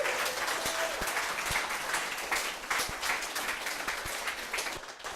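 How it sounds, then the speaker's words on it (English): Warm applause and scattered cheers from an audience at the close of a live mediumship demonstration in Bournemouth, with a few sharp individual claps standing out and the clapping fading slightly near the end. "Mr. Ivan Lee, give him a round of Cheers, applause."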